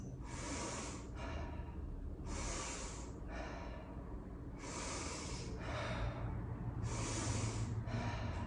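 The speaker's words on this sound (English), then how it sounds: "So it's a big inhale and just a relaxed exhale." A person practicing a breathing technique: four big sharp inhales through the nose alternating with softer relaxed exhales, in a steady slow rhythm, close and clear with no talking.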